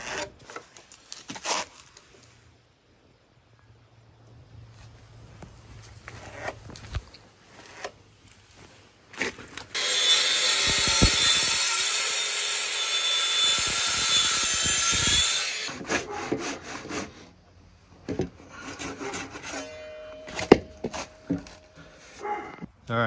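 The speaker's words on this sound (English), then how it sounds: "Probably cut this with the track saw and then probably cut this one by hand." A wooden beam for a treehouse yoke is cut with a saw in a loud, steady stretch of about five seconds, set between quieter knocks and handling noises of the build.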